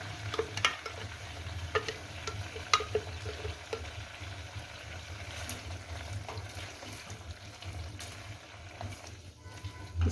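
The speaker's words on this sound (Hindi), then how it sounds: "यहाँ मैंने जो टमाटर और हरी मिर्चों की पेस्ट तैयार की थी वो ऐड करूँगी।" Tomato and green chili paste frying in a pan while being stirred, with soft continuous sizzling, wet bubbling and scattered clinks of a spoon against the pan, fairly quiet throughout.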